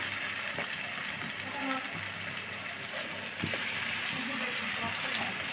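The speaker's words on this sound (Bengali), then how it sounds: "একটু সময় নিয়ে আমি উল্টিয়ে পাল্টিয়ে লাল লাল করে ভেজে নেব।" Pumpkin pieces coated in salt and turmeric fry in a pan, a soft continuous sizzle with occasional light clinks and scrapes from turning, fairly quiet.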